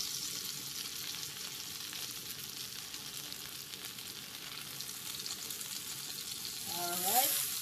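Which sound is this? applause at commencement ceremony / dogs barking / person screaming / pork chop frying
pork chop frying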